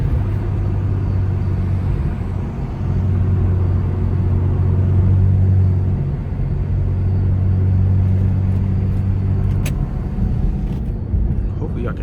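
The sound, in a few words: BMW 335i E92 N55 straight-piped engine while driving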